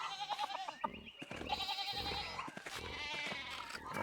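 Sheep bleat repeatedly in the video game Pentiment, the animal calls overlapping game music and ambience at a steady, fairly loud level with no talking.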